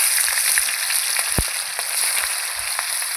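Chicken pieces sizzle steadily in hot oil in a wok, a dense continuous frying hiss with a few soft pops and one low thump near the start, no talking.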